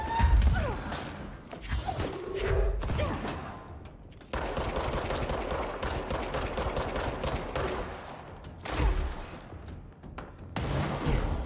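Rapid gunfire bursts from the video game Control, loud and dense with crashing impacts, continuing through most of the stretch with brief pauses.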